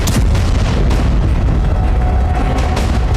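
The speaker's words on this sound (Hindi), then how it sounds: "ये रूस के FAB 3000 बम का हमला है।" A huge, deep explosion of a Russian FAB-3000 aerial bomb rumbles loudly and continuously, a dense booming roar filling the whole clip with no voices.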